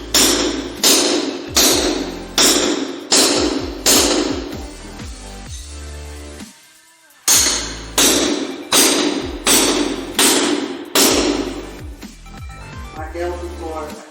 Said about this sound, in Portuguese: Martelo do Thor.